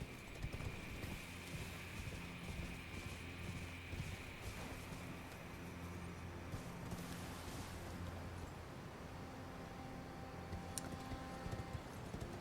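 Hoofbeats of a galloping horse in Elden Ring: Shadow of the Erdtree, a steady clip-clop rhythm running throughout over a low droning game soundscape with faint wind, no talking.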